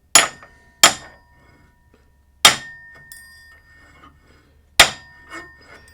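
Four sharp taps with a hammer seat a tool rest on a wood lathe, each a crisp knock with a short ringing tail, spaced irregularly across a quiet shop with no talk.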